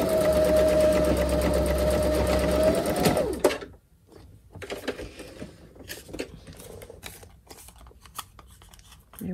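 A sewing machine stitching onto a postcard: a steady, loud mechanical whir for about three seconds that stops abruptly, followed by scattered paper handling and clicks.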